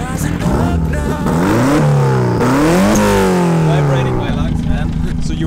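Loud 300 HP engine in a converted van revs hard, pitch climbing in repeated gear-like steps over several seconds before settling back to a rumbling idle, close and dominant.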